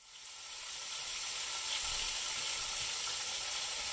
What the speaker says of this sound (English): So now we're gonna take onions, carrots, peppers, coat the bottom of the pot.